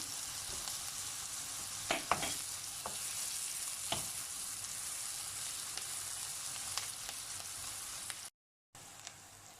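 Onions frying in butter in a pan, a continuous dense sizzle with a few light utensil clicks, close and steady, briefly cutting out near the end.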